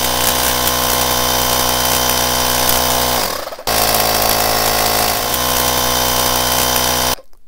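A Parkside 20V cordless compressor on a 4 Ah battery runs with a loud, close, steady buzzing motor drone. It stops briefly, restarts and runs on, then cuts off sharply at the end.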